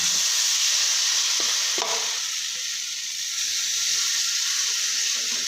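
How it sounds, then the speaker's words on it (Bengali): Semolina snack frying in a pan of oil gives a steady, loud hiss of sizzling throughout, with a few faint scrapes and taps from stirring and no voices. "আমি আরও একটা ভেজে নেব আমি আর তেলই দেব না"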